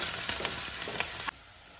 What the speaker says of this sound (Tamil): அந்த பச்சை மிளகா வந்து நல்லாவே வதங்கிடணுங்க